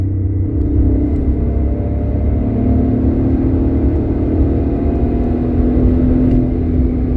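A car driving along a road with widely spaced gear ratios, its engine a steady low rumble that swells gradually as it accelerates, continuous and fairly close throughout with no talk.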